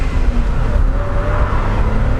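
A worn BMW 325is E30 driving with its engine revving, a loud, steady, close drone that rises slightly in pitch throughout, with no talk.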